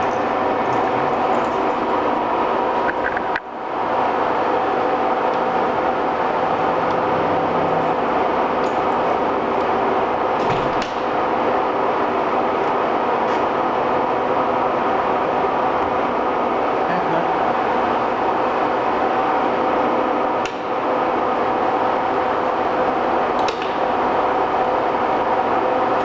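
A used Century sliding gap lathe, US-made, 20/37 by 48/67 inch, running steadily at 202 RPM in mid-range, giving a continuous even machine hum that fills the whole span with only brief dips.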